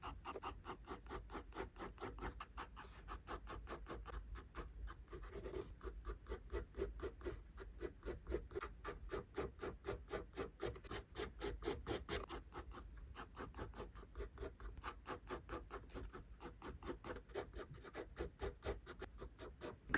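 Pencil drawing a face outline on paper, heard as steady, rapid scratching strokes in a continuous rhythm, quiet and close, with no talking.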